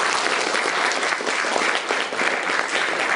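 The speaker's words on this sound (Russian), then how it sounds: "Танюш, ну это аплодисменты тогда тебе." Audience applause at a round-table event, a steady, dense clapping from a full room that holds evenly for the whole stretch with no voices standing out.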